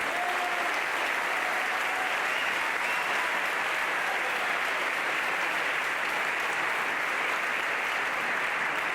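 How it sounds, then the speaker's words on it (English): Sustained audience applause during Newt Gingrich's speech to the Republican Jewish Coalition, a broad, even roar of many hands clapping throughout with no break, moderately loud and heard from within the hall. "you were applauding too soon"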